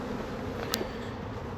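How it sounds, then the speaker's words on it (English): Bumblebees and yellow jackets buzz steadily outdoors near a honey bee swarm removal, a faint continuous drone with no talking. "There's a couple bumblebees over there, a couple yellow jackets."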